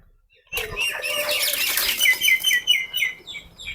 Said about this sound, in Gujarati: આમાં ઘણા બધા પંખીઓ, તાણે કબૂતર છે.